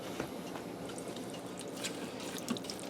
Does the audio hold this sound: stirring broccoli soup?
yes